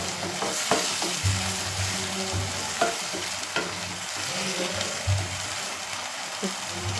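Onion with curd and garlic paste sautéing in a pan over high flame, a dense steady sizzle with intermittent knocks and scrapes of stirring, no talking.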